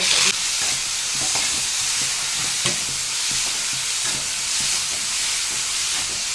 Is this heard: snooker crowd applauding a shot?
no